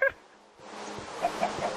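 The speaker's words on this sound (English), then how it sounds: "Chicken." A Minecraft chicken gives a few short, close clucks against a quiet background.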